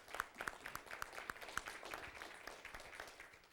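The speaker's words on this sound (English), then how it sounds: "deserves a round of applause" A small round of applause at a mayor and council meeting, faint and somewhat distant, scattered claps continuing for a few seconds with no talking.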